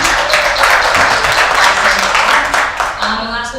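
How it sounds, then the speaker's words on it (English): An audience at a legal and advocacy clinic applauds a speaker, the clapping loud and continuous before tapering slightly at the end, with some voices mixed in. "Big round of applause for Adam."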